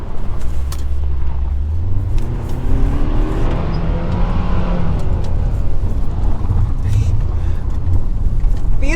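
A 2022 Hyundai Tucson driven hard on a dirt rally stage, its engine rumbling and rising in pitch as it accelerates, loud and continuous with gravel and road noise, while a person talks at times.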